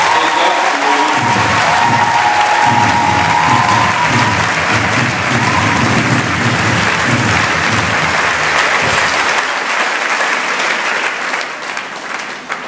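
A congregation applauding at a Mass, sustained loud clapping from a large crowd that holds steady for most of the stretch and then thins out near the end.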